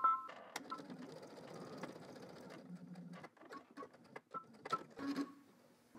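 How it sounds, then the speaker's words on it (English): Domestic sewing machine running a long basting stitch a quarter inch from a folded fabric edge, in quick mechanical bursts with short pauses, close and fairly quiet. "And then now I'm just going to stitch a quarter inch away from the folded edge."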